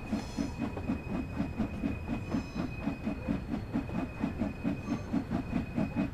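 A steam locomotive in Train Sim World 2 pulls away under heavy throttle, with a fast, even chuffing rhythm over a low rumble and a thin steady hiss, moderately loud and without talking.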